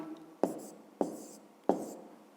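Pen strokes on paper during a fifth-grade maths exercise: three crisp, separate scratches spaced about half a second apart, close and quiet, with no talking.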